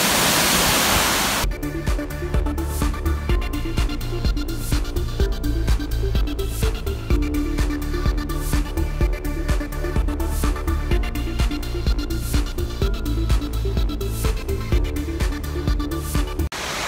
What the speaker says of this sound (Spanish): Cascada de los duendes o cascada del duende.